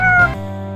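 A single short, close cat meow with a bright, rising-then-falling tone, clear and loud.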